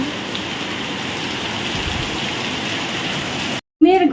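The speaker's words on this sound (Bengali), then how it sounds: "এখানে তো মেঘ করে আছে বৃষ্টি পড়ছে" Rain falling outside on a cloudy day, a steady, even hiss of moderate loudness that cuts out abruptly near the end before a brief different sound.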